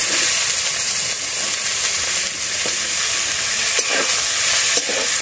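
Chopped onion fries in hot oil with dried red chilli, cinnamon and cloves for a Bengali chicken curry, giving a loud, steady sizzle with occasional stirring scrapes close by.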